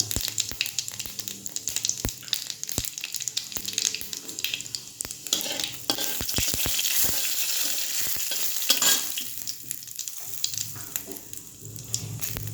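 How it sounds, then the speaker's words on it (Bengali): White cumin seeds sizzle and crackle in hot oil in a pan, a steady loud frying hiss with scattered sharp pops and occasional stirring scrapes, no talk. "তেলটা গরম হোক। সাদা জিরে"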